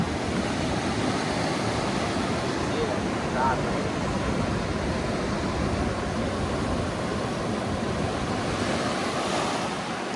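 Ocean waves at Anini beach on Kauai wash in as a dense, continuous roar of surf, with wind buffeting the microphone and no voices heard.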